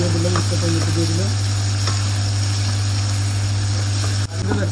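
Tomatoes sizzle and fry in a little hot oil in a pan for a fish curry, a steady broadband hiss running throughout with faint stirring scrapes near the start.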